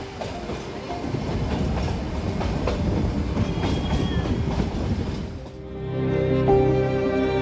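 A Nilgiri Mountain Railway heritage train rolls through a eucalyptus-lined stretch toward Ooty, its wheels clattering in a loud, steady rhythm that drops away briefly before a rumbling, squealing passage with a sustained tone, no voices.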